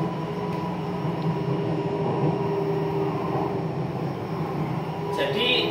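Inside a Jakarta MRT subway train heading toward Cipete station, a steady rumbling drone and hum of the moving carriages fills the space. It stays continuous and fairly loud throughout.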